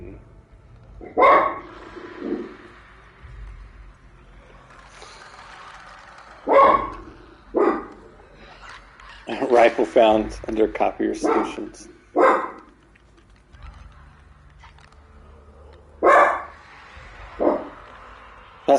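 A dog in The Last of Us Part II barks in short, loud bursts scattered across the stretch in the tunnels, with a few whimpering yips, interleaved with a person talking.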